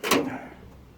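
A door on a Trans Am being rebuilt, hung without its rubber seals, swings shut with one sharp close, then a short ringing decay in a quiet room.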